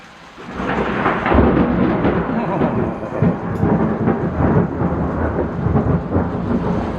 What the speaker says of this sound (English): It makes sense that I'd prune it in a thunderstorm.